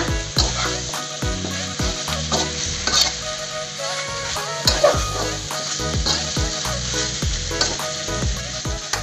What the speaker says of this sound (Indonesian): Diaduk-aduk sama bumbunya.